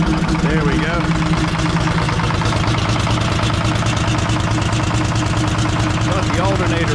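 An engine idles steadily just after ignition, a continuous low rumble with a faint knocking pulse that runs unbroken throughout, while someone talks over it.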